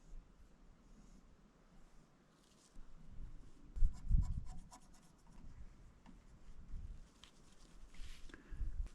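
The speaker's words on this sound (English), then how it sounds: "I'm going to sketch with transparent red oxide." A half-inch or quarter-inch flat brush sketches transparent red oxide paint onto canvas outdoors on a mountainside, making soft, intermittent scratchy rubbing strokes close by, fuller and busier in the middle stretch, with no talking.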